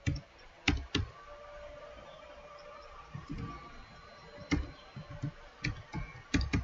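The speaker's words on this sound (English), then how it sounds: "you will type your password here" Password typed on a computer keyboard, a quiet room with scattered clusters of sharp key clicks separated by short pauses.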